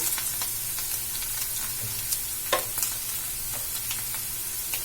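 Chopped green chilli stir-fried in a pan with ginger garlic paste, a soft steady sizzle with a few sharp scraping stirs of the spoon, close and alone.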